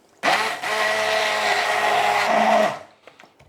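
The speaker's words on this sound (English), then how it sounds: "Using a hand blender, I'm going to be mixing everything together." A hand blender whirs loudly and steadily for a few seconds mixing a creamy asparagus pasta sauce, its motor pitch shifting slightly as it mixes, then stops, followed by faint clinks.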